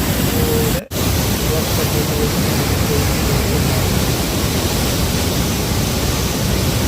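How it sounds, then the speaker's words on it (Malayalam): Water rushes out through the dam pipelines at Mullaperiyar, producing a loud, dense, unbroken roar close by, with a brief dropout near the start. "ഈ നാല് പൈപ്പ് ലൈനിലൂടെ ഒഴുകിപ്പോകുന്ന വെള്ളമാണ് ഈ കാണുന്നത്"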